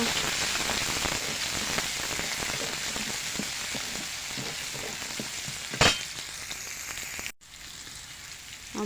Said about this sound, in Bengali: সবজিগুলো নাড়াচাড়া করে ভেজে নেব।